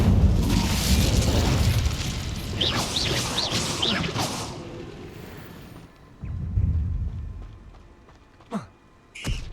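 An Incendio fire spell blasts in Hogwarts Legacy, a loud roaring whoosh and burst of flame that fades out, then a second thumping impact, a short rising whoosh and a sharp closing hit.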